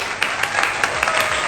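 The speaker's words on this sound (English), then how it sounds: "round of applause for everybody" A steady round of applause from a group, with dense overlapping claps that fill the short stretch evenly and at moderate loudness. No one speaks over it.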